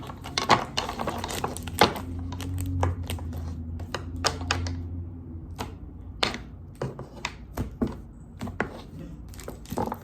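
Tarot cards are shuffled and riffled in quick bursts of crisp clicking and flicking, close up, with uneven pauses between handfuls.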